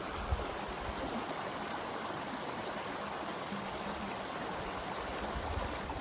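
Canyon Creek water rushes steadily over rocks in a constant, close hiss, with no voices.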